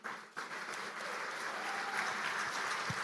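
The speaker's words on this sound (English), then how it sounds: "Please help me to thank these people with a louder applause." An audience at a climate change summit in Lagos claps in steady, even applause after a brief first burst, faint and distant in a large hall.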